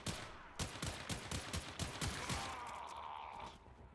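Rapid gunfire from small SMG-like weapons in the sci-fi shooter Warframe, a fast stream of sharp shots for about two seconds that then gives way to a fading whine and hum, quiet overall.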